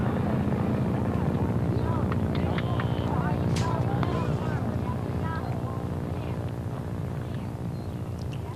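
A model aircraft's engine drones steadily during a flight test takeoff, recorded outdoors with wind buffeting the microphone, holding a continuous whine that fades slightly toward the end.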